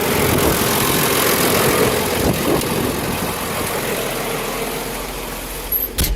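A John Deere 4050 tractor engine drives a grain auger, a steady, loud drone continuing at a near-constant pitch, running close by without pause for several seconds.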